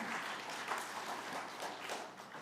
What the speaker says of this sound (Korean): 우리 성도님을 박수로 환영했으면 좋겠습니다.